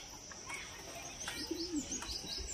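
Laljira breed pigeons coo softly and faintly with a few low, rolling calls, accompanied by light chirps, against a quiet background.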